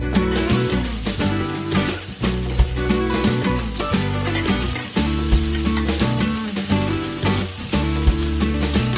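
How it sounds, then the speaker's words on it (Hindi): Sliced onions frying in a fully heated pan of oil left from frying peanuts, for kanda poha: a loud, continuous hissing sizzle with occasional stirring scrapes, close up and without speech. "अभी हम प्याज को फ्राई कर लेंगे"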